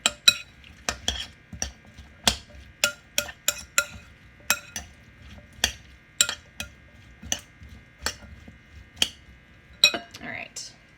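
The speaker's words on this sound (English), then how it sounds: "mix that up so that you evenly coat" A utensil clinks and scrapes against a bowl while peppers, onions and pineapple are tossed to coat them evenly, giving sharp, irregular taps close by with quiet gaps between them.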